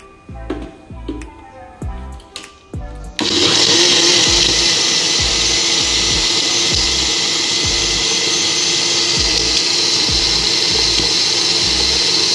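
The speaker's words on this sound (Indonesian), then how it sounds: "Dengan cara praktis, kita blender aja ya santannya teman-teman." Electric blender running loud and steady, whirring coconut milk for Acehnese shrimp curry, after a few seconds of quieter kitchen clatter and soft knocks before the motor kicks in.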